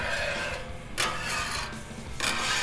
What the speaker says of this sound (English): I'll just use my spreader or my scraper. Get this oil around here.